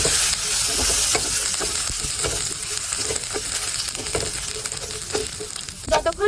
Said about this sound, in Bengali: এবার ফোড়না দিয়ে দিচ্ছি কালো জিরা আদা কুচি